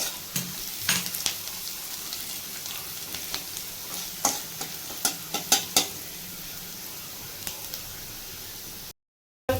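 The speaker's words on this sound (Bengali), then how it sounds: "লাল করে ভেজে নেবো" Frying in a pan until reddish, before kolmi greens go in, with a steady broad sizzle and sharp utensil scrapes and clinks while stirring, close and alone.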